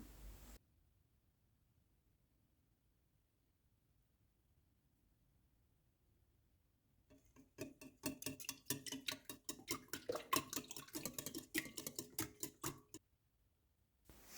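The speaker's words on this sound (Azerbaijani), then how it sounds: "qaba 5 ədəd yumurtanı, 3 yemək qaşığı şəkər tozunu, yarım çay qaşığı duzu və yarım stəkan duru yağı əlavə edib çırpıcı yardımı ilə qarışdırıram" Eggs, sugar, salt and oil whisked by hand in a bowl, a quiet lull giving way to a quick, steady run of rhythmic tapping strokes for several seconds before stopping.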